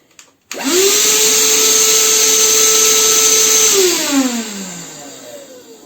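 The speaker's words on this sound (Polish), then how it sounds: "Teraz Wam pokażę. Mój odkurzacz, jak chodzi." An Erbauer EVAC18-LI cordless vacuum cleaner switches on with a rising whine, runs loud and steady at close range, then winds down near the end.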